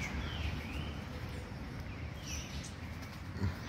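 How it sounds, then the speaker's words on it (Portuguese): Small birds in a Brazilian town square give faint, sparse chirps and tweets over a soft outdoor rumble and rustle, with a slightly louder call near the end. "Olha os passarinhos."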